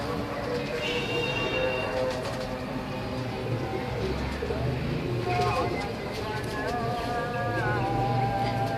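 A Teddy–Ferozpuri cross pigeon coos softly in a home loft, low repeated calls heard near, mixed with other bird chirps and background noise, while someone talks over them.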